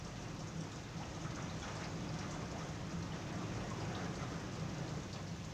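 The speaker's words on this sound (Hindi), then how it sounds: "जादू टूट पड़ा और बारिश हुई।" Monsoon rain falls in a steady, dense hiss with fine patter on surfaces, continuous and even with no breaks, at a moderate distance.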